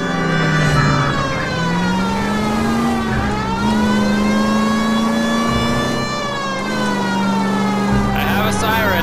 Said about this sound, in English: I have a siren.